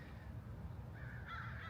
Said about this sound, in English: we got a flock of birds flying by